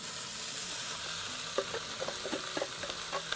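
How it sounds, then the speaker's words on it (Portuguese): Shredded, desalted and cooked charque hitting hot oil in a pan, a steady sizzle with scattered crackles and pops from stirring, close and moderately loud with no talking. "Então, vamos para a panela já com o óleo."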